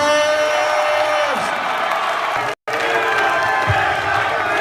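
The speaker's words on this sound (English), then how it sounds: "Los Angeles, a round of applause." A loud crowd cheers and applauds continuously at a Los Angeles Chargers NFL kickoff ceremony, with whoops rising above the roar and a momentary cut to silence midway.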